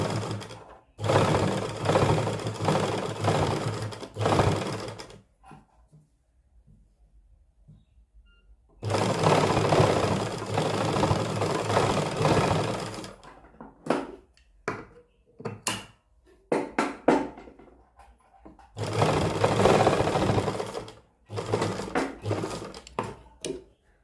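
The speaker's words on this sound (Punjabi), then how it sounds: "ਪਾਈਪਿੰਗ ਦੇ ਨਾਲ ਨਾਲ ਸਲਾਈ ਲਾ ਦਾਂਗੇ ਆਪਾਂ" A sewing machine stitches along piping on a garment in three loud, close bursts of rapid whirring, separated by quiet pauses filled with small clicks and handling noises.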